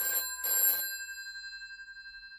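An old-style telephone bell rings in two quick bursts, the second longer, with a metallic tone that lingers and fades in the quiet room afterward; no one speaks.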